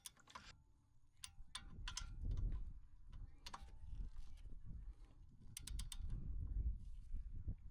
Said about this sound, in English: then we're going to do it with the torque wrench to torque it down to spec